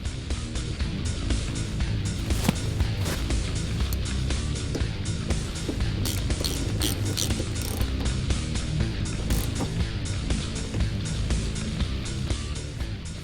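Ratchet wrench rapidly clicking as light bar brackets on a 2005-2014 Mustang are bolted back down, a dense, continuous metallic ticking that runs steadily throughout, close and fairly loud.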